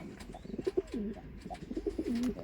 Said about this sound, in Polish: O, już grucha do niej